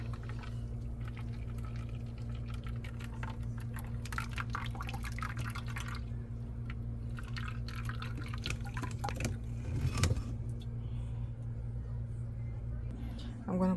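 Freshly made beet juice drips and trickles through a strainer in a kitchen, steady and soft over a low mechanical hum.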